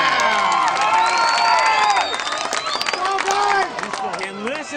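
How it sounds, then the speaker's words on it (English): High school football crowd at an evening game between Churubusco and Fremont roaring and cheering after a first down, loud and sustained with shouts and whistles, a voice calling the play over it. "And listen to that crowd on that."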